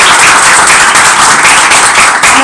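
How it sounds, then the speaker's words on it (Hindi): A church congregation claps for newcomers at a Hindi prayer and worship gathering, a loud, dense, steady wash of many hands filling the whole stretch without pause. "जो नए चेहरे हैं उनके लिए हम सबको आज तालियां बजाएंगे।"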